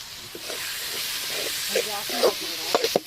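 Ginger and garlic with turmeric, chili powder and garam masala sauté in a pan, giving a continuous hissing sizzle with small pops that grows livelier toward the end, under faint talk.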